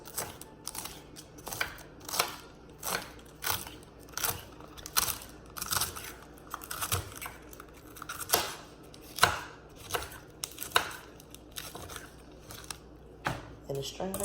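Knife slicing rolled collard greens on a cutting board while making vegan collard greens, a steady run of crisp, close chopping thuds and snips, evenly paced over the whole stretch with a voice talking now and then.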